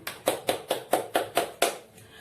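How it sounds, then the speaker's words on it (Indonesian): Children in a classroom clap their hands in a rhythmic sequence of about eight sharp, evenly spaced claps, fairly close and moderate in level, ending in a brief quiet tail. "Kita tepuk tangan untuk teman yang telah menceritakan pengalamannya beristirahat di rumah."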